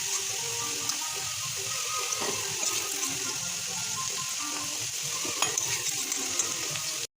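Potato pieces frying in hot oil in a home kitchen, a continuous close crackling sizzle with small pops, steady and even, with no voices.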